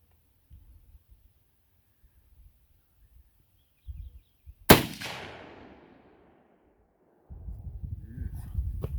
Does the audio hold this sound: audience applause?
no